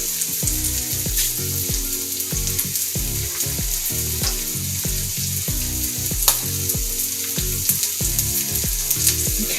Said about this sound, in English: We'll let that simmer for about a minute or two.